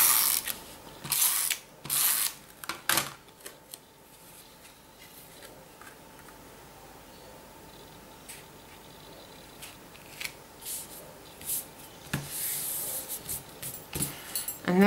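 A stamp runner used for card making, giving repeated mechanical ratcheting clicks and rattles in short bursts near the start and end, with a quieter, steadier stretch of low handling noise between.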